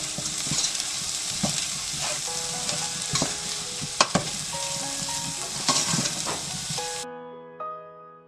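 Steady sizzle and scraping of kadabu dumpling mixture being stirred in a hot pan with fenugreek, coconut and peanut powder, continuous for about seven seconds before cutting off abruptly.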